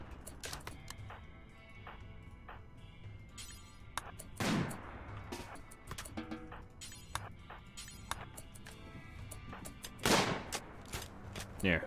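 Sniper rifle shots in the RimWorld video game, a few sharp distinct cracks spaced seconds apart amid small game clicks and background sounds, moderately loud.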